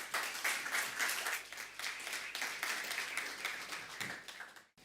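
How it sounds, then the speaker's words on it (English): Audience applause for a panel at an India Global Forum Young Leaders Forum session: dense, even clapping from a crowd for about four seconds, moderately distant, ending abruptly. "Please give them a huge round of applause."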